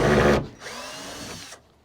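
A power drill backs screws out of a van's interior during a gut-out. A loud, close motor burst is followed by a brief pause and then a steadier, quieter whine.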